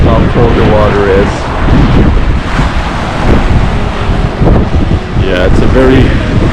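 Strong wind buffets the microphone on the Wellington waterfront, a constant loud roar with gusts, mixed with lapping surf and brief voices in the background.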